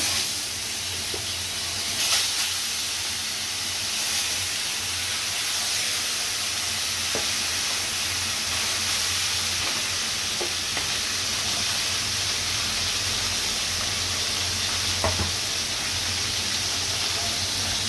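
Koi fish frying in oil in a home kitchen pan, a steady broad sizzling hiss that holds for the whole stretch, loud and continuous with faint clinks now and then.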